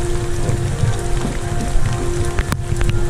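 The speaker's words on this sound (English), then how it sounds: "This rain's horrible." Rain falling steadily at Chessington World of Adventures theme park during construction works, a dense continuous patter with wind noise and an occasional sharper knock.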